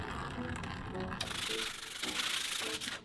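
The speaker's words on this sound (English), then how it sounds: "a wet sanding is best to keep the plastic dust down" Short scraping strokes of wet sanding rub back and forth against hard plastic, fairly quiet and close.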